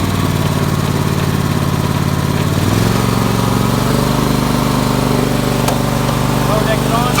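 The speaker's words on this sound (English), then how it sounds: "I'm going to speed it up to medium throttle, and then I'm going to engage the mower deck" Cub Cadet LTX 1046 lawn tractor engine running loud and close, a steady drone that rises in pitch partway through as the throttle goes up to medium, continuous with no pauses.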